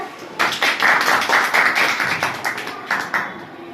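Students in a classroom clap together, a steady stretch of loud overlapping hand claps in rhythmic bursts that taper off toward the end.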